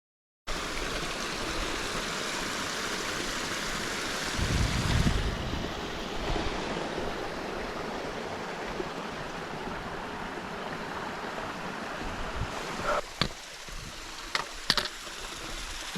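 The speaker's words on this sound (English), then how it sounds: "So, here's some pretty waterfalls." Waterfalls along the Ammonoosuc Ravine Trail on Mount Washington, a steady, dense rush of falling water with a short louder surge early and a few faint knocks toward the end.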